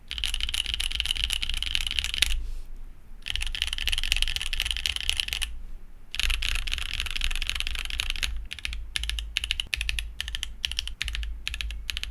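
Typing on an AJAZZ AC067 Iron Grey mechanical keyboard fitted with GMK keycaps: rapid, close clacking keystrokes in bursts separated by short pauses, ending in sparser individual key presses.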